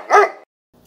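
A Doberman puppy gives a single short, close bark, then a faint trailing sound after a brief silence.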